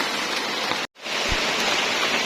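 Heavy rain pours down steadily in a dense, loud hiss outside a treehouse, with one brief sharp break in the sound before the downpour resumes at full strength.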